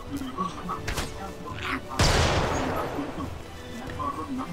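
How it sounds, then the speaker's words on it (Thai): A bomb explodes in the video game Magicka with a sudden loud boom that decays into a rumbling roar, set among quieter game effects before and after, with faint voices in the background. "ระเบิดสร้างความชิบหาย"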